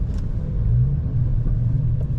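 A 2009 Dodge Challenger R/T's engine rumbles low and steady as the car slows for a stoplight and downshifts, a deep continuous drone heard from the cabin with no talking.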